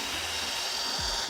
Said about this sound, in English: now I'm just drilling